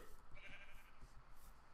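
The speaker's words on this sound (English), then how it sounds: "Where's that sheep?" A sheep in Minecraft gives a faint, brief bleat in a quiet moment.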